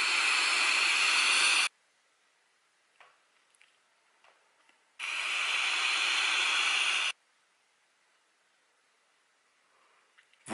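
A vape kit, an MVP4 mod with a Scion atomizer firing at 70 watts on a high-VG liquid for direct-lung draws, gives two long, loud, steady hissing bursts of about two seconds each, separated by quiet gaps with faint clicks.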